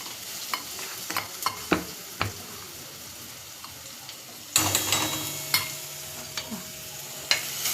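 Cumin, garlic and green chili sautéing in a pan: a continuous close sizzle broken by repeated scraping and tapping strokes of a stirring spoon, louder and denser in the second half, no talk.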